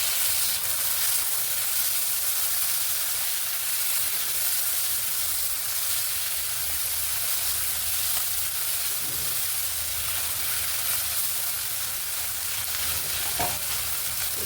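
Tomato pieces sizzle in hot oil with browned onions in a pan for a masala vada curry, a steady loud frying hiss with occasional stirring scrapes and no talking.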